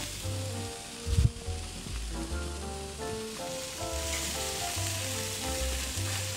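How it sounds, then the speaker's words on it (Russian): Steady sizzling of horse meat steaks frying in a pan, with a clatter near the start and faint tonal background sounds underneath. "когда мужчина жарит мясо"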